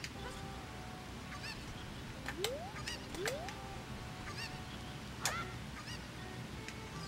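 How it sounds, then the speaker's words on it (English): Cucco chicken in Zelda: Ocarina of Time, giving a few faint squawking calls and rising chirps over a low, steady background hum. "Wait, no, chicken, come back!"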